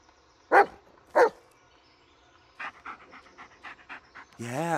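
A dog in the Blair Witch video game gives two sharp, loud barks, then pants in quick rhythmic huffs, followed by a rising whine or howl near the end, all close and clear.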